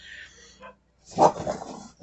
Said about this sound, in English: One of the neighbor's dogs barked